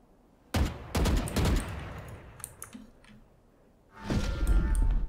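Gunfire in the Valorant video game, sharp loud shots in rapid bursts followed by a second burst of sustained automatic fire after a pause, with faint clicks in between.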